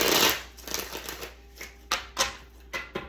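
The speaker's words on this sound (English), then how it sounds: "Let's get one more shuffle." Tarot cards are shuffled by hand in a string of crisp riffles and soft slaps, close and clear, with irregular bursts and brief pauses between them.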